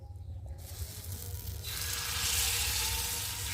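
Milk pitha batter hisses and sizzles in hot oil, a steady close frying sound that grows louder and brighter partway through as more batter meets the oil, with no talk.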